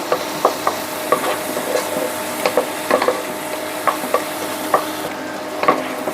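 Egg, vegetables and green chillies frying in a pan while being stirred, with a steady sizzle and repeated sharp scraping taps of the spatula, close and without talk.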